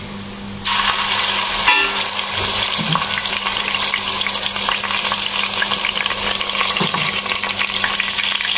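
Loud, steady sizzling of onions browning in a pan, with a few clinks of a utensil stirring against the metal.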